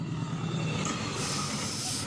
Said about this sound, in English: Didn't see the second train coming.